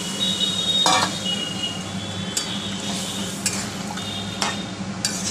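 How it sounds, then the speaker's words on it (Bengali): Hot water poured into a frying taro and potato curry, a busy sizzle and bubbling with a few sharp clinks of a utensil against the pot, no talking. "আমি একটু জল গরম করে রেখেছিলাম, কষা তেল ছেড়ে গেছে ওই থেকে। এই যে এবার জলটা দিয়ে দিলাম।"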